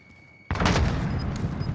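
A sudden burst of gunfire and booming shots in the Warzone battle royale game cuts in after a quiet moment and carries on as a steady, loud roar of fire.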